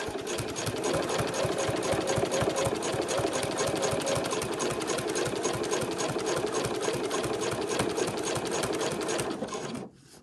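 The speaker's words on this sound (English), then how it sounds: "I'm just going to do a top stitch" A sewing machine runs a top stitch through all layers of a fabric travel wallet, a fast steady mechanical chatter that stays loud and constant for about nine and a half seconds before stopping abruptly.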